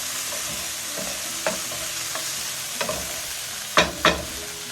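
Steady broadband hiss of salmon or steak sizzling in a pan, with occasional louder pops and clinks of a utensil stirring near the end.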